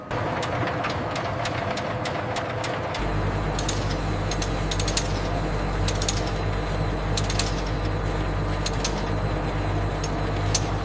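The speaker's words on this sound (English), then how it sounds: "Twin ribbon blades fold binder and pigment evenly through the rubber crumb mixture." A ribbon blender mixes rubber crumb with binder and pigment in a tire recycling factory, starting up after a few seconds into a loud, steady low mechanical drone with sharp intermittent clicks and rattles above it.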